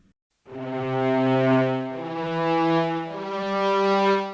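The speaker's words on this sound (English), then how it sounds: "especially string instruments, like this cello" A sustained, bowed cello-like synthesized tone with a soft, gradual attack, holding steady pitch before shifting slightly, rich in harmonics, played alone.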